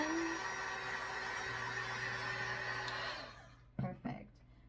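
Hot air roars from a heat tool drying a velvet-finished Christmas cardinal craft, then cuts off about three seconds in, followed by a couple of soft handling knocks in the quiet.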